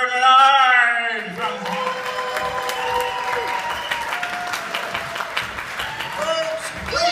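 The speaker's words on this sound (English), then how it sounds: "Give a huge round of applause for Mr. Robert Menard." Loud, sustained applause and cheering from a stand-up comedy crowd in Cornwall, starting under a host's voice and then a dense wash of clapping that holds steady and close.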